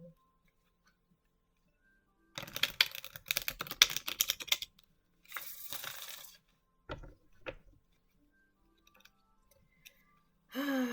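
Bursts of papery riffling and soft slapping as tarot cards are shuffled, in several short runs separated by quiet gaps, close and fairly loud.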